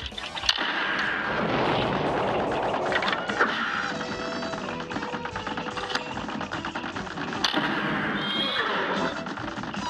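Horses neigh in the Cuphead video game during a chaotic King Dice stage, with brief whinnies that rise out of a dense mix of shots, impacts and music.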